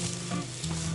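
Fish sizzling steadily in a small frying pan over a campfire outdoors on ice, a continuous loud hiss and crackle heard close up without talk.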